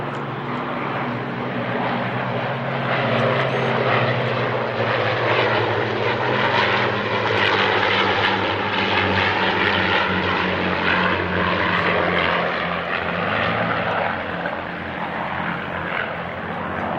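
A propeller aircraft at the Biggin Hill Airshow drones loudly overhead in a steady sustained roar, its engine pitch slowly shifting as it passes.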